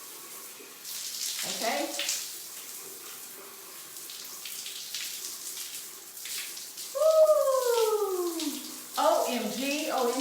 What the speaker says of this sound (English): And then you just rinse it out with some warm water,